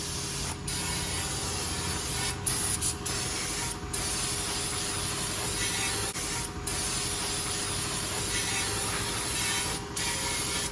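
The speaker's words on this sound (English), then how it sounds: "A little brake clean." Aerosol brake cleaner sprayed onto the brakes of a 2007–2011 Honda CR-V, a loud, close, continuous hissing spray broken by a few brief pauses, with no talking.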